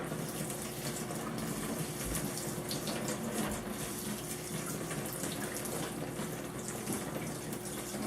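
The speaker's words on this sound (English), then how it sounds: "we're going to water it until it's all clear" Water poured over a juniper bonsai planted in lava rock, rinsing until the runoff turns clear; a steady, close splashing and trickling runs without pause, with no talking.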